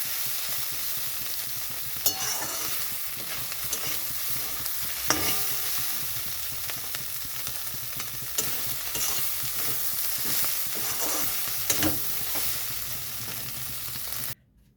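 Shrimp are fried and stirred in a pan with a steady close sizzle throughout, broken by sharp scraping knocks of the spatula every few seconds, with no voices, before the sound cuts off at the end.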